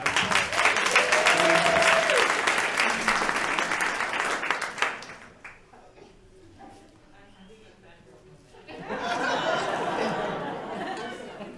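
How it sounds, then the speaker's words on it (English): Audience applause at an outdoor-inclusivity panel discussion, loud and sustained for about five seconds with chatter, then a quiet lull before a second burst of clapping; a voice speaks briefly. "Let's give a round of applause for"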